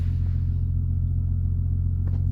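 Toyota Supra mk3 with a 3.0 engine, not fully healthy, running at a steady low idle, a deep continuous rumble heard from inside the car with no talking.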